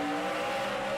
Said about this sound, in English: you can hear the 9 car. His rear tires are spinning big time up off the corner.